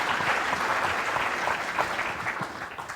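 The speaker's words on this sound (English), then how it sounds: "a round of applause for the chairs for each of the planning sessions" Applause from delegates at a health system conference planning session, a steady round of clapping from a seated audience, moderately loud and continuous for a few seconds without talk.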